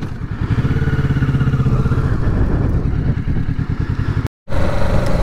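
A Kawasaki Ninja 650 motorcycle engine runs loud and close with a steady, throbbing idle-like rumble, cut by a brief dropout near the end before resuming.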